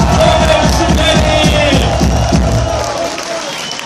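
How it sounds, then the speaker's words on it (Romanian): An audience at a live jam battle event applauds and cheers Oren and Meni, with dense crowd clapping and shouting that is loud at first and gradually fades. "Aplauze gălăcie din nou pentru Oren și Meni"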